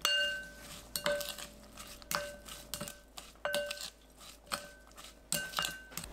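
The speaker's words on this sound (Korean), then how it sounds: "쪽파 넣고 섞어주세요." Onion, chili and scallion are mixed into a seasoning in a bowl for a Korean salted yellow croaker side dish, with a spoon clinking against the bowl in repeated bright, close taps roughly every second.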